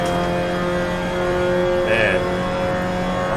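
Race car engine in Assetto Corsa at the Nürburgring GP, droning steadily at high revs with sustained harmonic whine and a brief shift bump midway, loud and continuous throughout.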